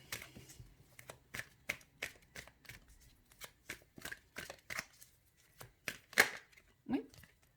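Tarot cards shuffled by hand before a reading, a quiet, close series of crisp riffling bursts in a loose repeating rhythm, with a faint voice briefly near the end.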